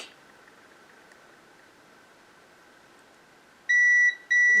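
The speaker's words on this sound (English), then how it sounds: "I've got my multimeter set to continuity." A multimeter set to continuity emits a steady electronic beep in two close bursts separated by a brief gap, loud against a faint background hiss, while testing the wiring of a Sony Walkman WM-F65.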